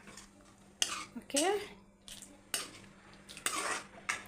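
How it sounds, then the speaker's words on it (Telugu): A spoon stirs tamarind pulp into fish curry in a pan with several close, distinct scrapes and clinks against the metal in irregular bursts, and a voice talks briefly between them. "చింతపండు గుజ్జు వేసేద్దాం. బాగా కలుపుకుందాం."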